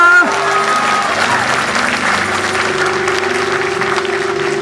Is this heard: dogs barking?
no